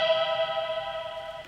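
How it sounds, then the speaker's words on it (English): A short violin fill from a Splice sample, heard as a sustained bowed note with a bright, rich tone at moderate volume with nothing else heard. "there was like this very short fill on a violin that"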